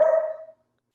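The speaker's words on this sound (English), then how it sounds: "Who barked?" A dog gives a single short bark, heard alone and fading within half a second, coming through an online video call.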